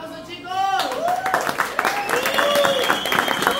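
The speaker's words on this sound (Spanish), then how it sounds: "¡Aplausos," An audience at a lively stage show claps and cheers, a dense burst of applause that begins abruptly and carries on under an excited voice and crowd noise.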